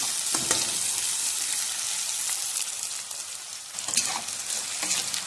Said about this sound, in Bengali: পেঁয়াজ কুচি দিয়ে একটু ভেজে নেব পেঁয়াজটা।